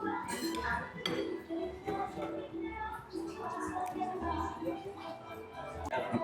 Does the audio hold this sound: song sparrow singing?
no